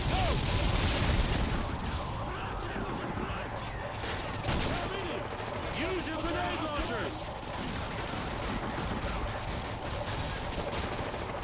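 Sustained bursts of enemy gunfire from the Modern Warfare 2 campaign mission "Of Their Own Accord" on Veteran difficulty, loud and continuous with overlapping shots and battle noise for the whole stretch, mixed with a voice.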